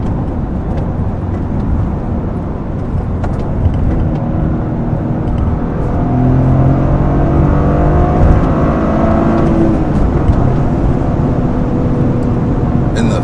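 Toyota GR Corolla engine revving steadily while driving, a continuous loud drone from inside the cabin with rising and falling tone as the revs climb, no talk over it.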